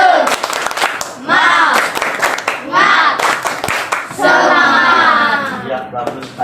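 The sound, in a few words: children clapping for class 5B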